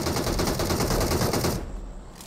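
Rapid automatic gunfire from the PUBG Mobile battle royale game, a dense, steady burst of shots for about a second and a half, then cutting off abruptly into quieter ambience.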